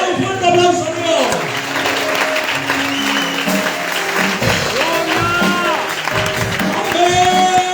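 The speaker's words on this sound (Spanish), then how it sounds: "Dale un fuerte aplauso a Dios." Congregation at a Galician youth church convention breaks into loud, sustained applause for several seconds, with shouts and music-like tones mixed in throughout.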